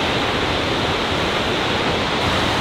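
A big waterfall near Whistler roars in a dense, unbroken rush of white noise, loud and close, with no other sounds standing out.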